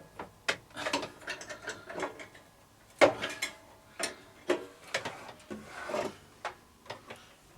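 Band saw blade guides are loosened on a saw just fitted with new, thicker wheel tires, giving a string of close, sharp ratcheting clicks and metal-on-wood rubbing, spaced irregularly with brief pauses between.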